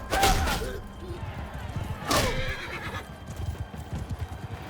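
Horse whinnies twice in Mount & Blade II: Bannerlord, long loud neighs near the start and around two seconds, with hoofbeats and battle clatter thudding underneath throughout and a voice speaking over it.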